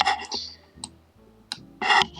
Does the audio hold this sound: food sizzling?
no